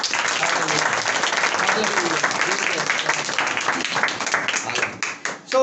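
A church congregation gives loud applause in praise of Jesus Christ during a pastor's sermon, a dense wash of clapping that thins out near the end, with voices through it.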